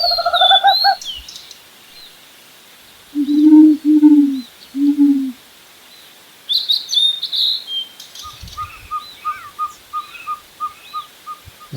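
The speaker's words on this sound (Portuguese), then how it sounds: "Gavião." Hawk calling in Brazilian marshland: clear whistled cries at moderate distance, some short and falling, others drawn out, ending in a rapid run of repeated notes, with no talk.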